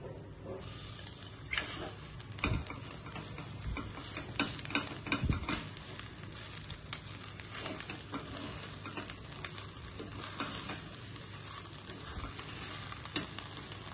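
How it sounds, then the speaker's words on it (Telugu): Grated coconut curry and tempering spices frying in a pan while being stirred, a continuous soft sizzle broken by scraping spoon strokes, no talk. "కొబ్బరి కూర, తాలింపు సరుకులు అన్నీ సమానంగా వేగినాయండి."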